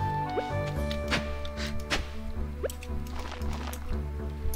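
Crops get watered in the Stardew Valley farming game, with soft repeated splashing and dripping over steady background game music and ambient tones.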